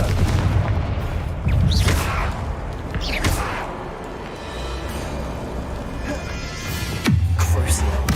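The Confringo spell goes off in Hogwarts Legacy as booming blasts, several heavy explosive thumps spread through the clip amid a dense, noisy game battle.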